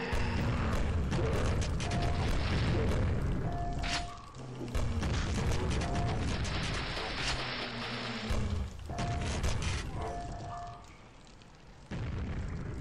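Grenade launcher explosions boom in the video game Quake, a run of loud blasts and rumbling bursts mixed with mechanical clanks and short tonal game effects, with no talking.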